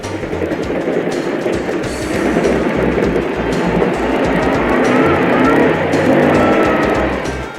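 A 1962–63 Ford half-ton pickup backing up a grade with power hop, a loud steady engine drone with rapid rhythmic juddering thumps from the rear axle, no talk.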